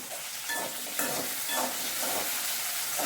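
Onions and radish sizzle and crackle steadily in a hot pan, with periodic scraping stirs at a regular rhythm, close up and with no voices.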